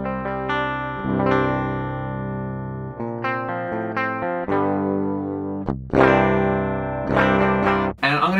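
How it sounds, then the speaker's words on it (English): A PRS SC245 electric guitar with stock pickups played direct through a Tech 21 RK5 Richie Kotzen Flyrig, sustained chords and single notes with bright effects coloring, loud and close with no voices. "Here is my direct guitar signal. This is a PRS SC245 with the stock pickups."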